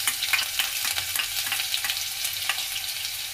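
Ginger sizzling and frying in hot mustard oil with asafoetida and garlic, a steady crackling hiss punctuated by stirring scrapes throughout, close and alone with no talking.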